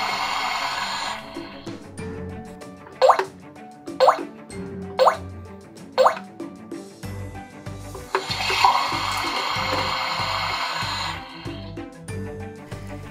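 Water sounds from a Minnie Mouse Bowtastic toy kitchen set used to wash hands: a few separate plopping drips followed by a steady running pour, close and fairly loud, with no talk.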